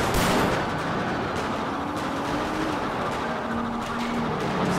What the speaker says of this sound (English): Oh, that's them shooting at me.